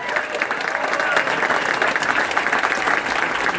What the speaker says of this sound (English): Let's give a round of applause for Amy Gertner